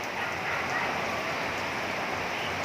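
Hail and rain pour down during a storm in a steady, dense, close hiss that holds an even loudness throughout, with no separate impacts standing out.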